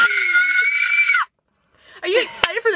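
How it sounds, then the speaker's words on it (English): A person screams loudly inside a car, a sustained high shriek lasting about a second, then a brief silence before another burst of excited shrieking and laughter-like squeals, very close and dominant. "Is that why you're screaming?"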